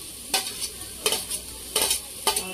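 Capsicum fries in a hot pan while being stirred, with four scraping spatula strokes spaced at a steady rhythm over a soft continuous sizzle, close and clear with no talking.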